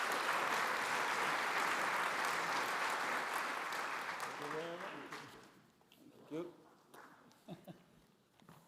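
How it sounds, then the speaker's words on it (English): Conference audience applause at a clean-cooking policy event, a steady round of clapping that fades out midway as a voice begins speaking. "Please give her a hand of applause."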